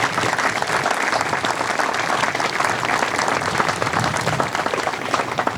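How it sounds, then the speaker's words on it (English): Sustained applause from a standing crowd at a Memorial Day remembrance ceremony at Bellevue Memorial Park, a steady, even wash of many hands clapping that fills the whole stretch without pause. "let's give them some applause if we can"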